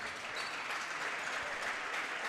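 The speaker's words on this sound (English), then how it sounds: "so they can get a round of applause on their senior night" A high school basketball crowd applauds seniors on senior night, a steady, dense wash of clapping heard throughout at moderate distance with little talk.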